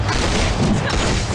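Explosions in the Korean mobile action game Triple S, loud, dense booming bursts filling the whole moment without a break.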